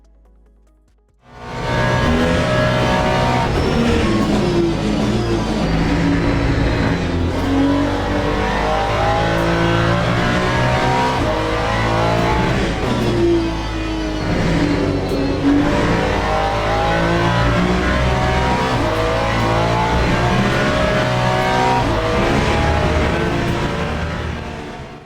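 A GT3 race car lapping Lusail in the Le Mans Ultimate racing game, its engine loud and continuous, climbing and dropping through gear changes under throttle and braking, with no talk over it.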